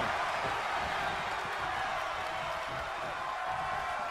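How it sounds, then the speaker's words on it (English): A loud wrestling-match crowd roars and cheers in a dense, unbroken wall of noise that fills the arena. "when you can't hear yourself think because the crowd's so loud"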